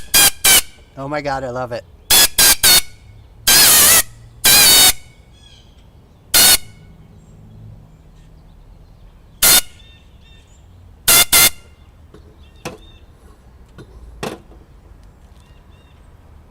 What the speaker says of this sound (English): nice and blown out from the air compressor, nice and clean